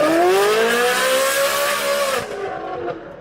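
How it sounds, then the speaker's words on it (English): Ferrari 458 Spider fitted with a full Fi exhaust system with headers, cat deletes and a rear valve muffler, revving to a loud, high-pitched wail that holds, then drops away with the engine tone fading over the final second. "We installed a full FI exhaust system with headers, cat deletes, rear valve muffler."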